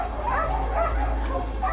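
Puppies at a puppy mill holding nearly a hundred of them in terrible conditions yip, whimper and give small barks, several close overlapping calls over a steady low hum, with no clear speech.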